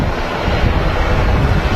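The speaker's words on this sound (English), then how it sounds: "An ATR also taxiing past. And that's on its way to Newquay. Making all the noise." An ATR turboprop taxis past at an airport, a loud, dense engine roar with some wind buffeting against the microphone. The roar is steady and close throughout, with no speech.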